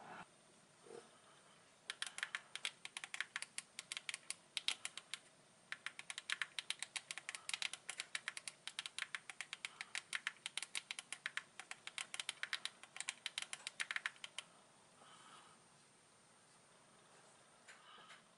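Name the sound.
typing on a phone keyboard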